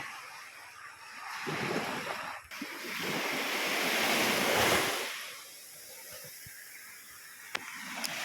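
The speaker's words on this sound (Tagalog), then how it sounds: "may ano lang may kunting alon" Small ocean waves on a beach at Sibutu, a soft surge of surf that swells and breaks in the middle before easing back, with light wind noise throughout.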